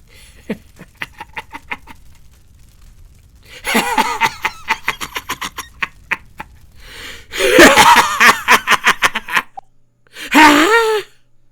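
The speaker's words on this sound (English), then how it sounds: "You gasp loudly, shaking the very room" A loud, sharp gasp of breath cuts through a run of rapid, panting, hysterical sounds, several strong intakes of air in bursts, close and dramatic, with no speech.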